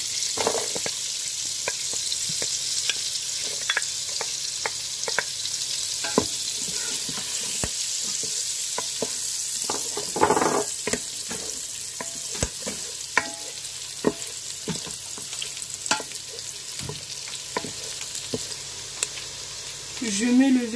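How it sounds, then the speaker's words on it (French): Onions fry in melted butter for chicken yassa, giving a constant crackling sizzle broken by repeated spoon scrapes and clinks. The sound stays close, with a louder burst of stirring around the middle. "je fais dorer les oignons"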